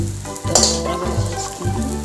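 Oil sizzles on a hot dosa pan, a loud, dense frying hiss with crackling bursts. A steady low hum from an appliance runs underneath.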